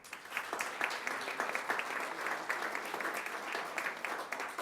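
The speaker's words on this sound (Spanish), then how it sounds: "Un aplauso, por favor." Audience applause at the opening of a forum, a steady, moderately quiet patter of many hands clapping together for several seconds, alone without speech.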